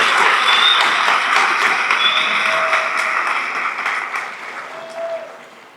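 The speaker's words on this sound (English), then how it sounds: "Por favor, démosle un aplauso de verdad." An audience at a Latino recognition ceremony gives graduates sustained applause, a dense wash of clapping that stays loud and slowly fades toward the end, with a few whistles.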